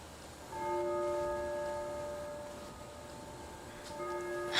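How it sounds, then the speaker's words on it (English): A bell rings out with a sustained, steady harmonic tone that fades slowly, then strikes again near the end; distant and moderately loud against faint background noise. "Church bells."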